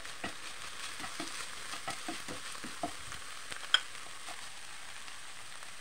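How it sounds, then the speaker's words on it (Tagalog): Onion and garlic frying in a pan for a Filipino stir-fried bitter melon dish, a faint steady sizzle broken by soft scrapes and taps of stirring, one sharper clink near the end, no speech. "So, lutuin na natin ng konti yung onion."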